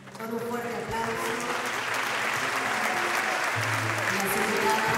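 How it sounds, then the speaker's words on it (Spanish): A crowd applauds steadily, a dense wash of clapping that builds slightly and continues throughout. "Despedimos a nuestras abanderadas con un fuerte aplauso."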